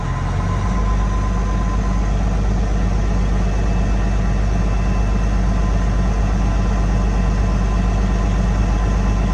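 A truck engine idles at raised revs, around 1,000 RPM, producing a loud, steady low diesel rumble that holds constant throughout without talk.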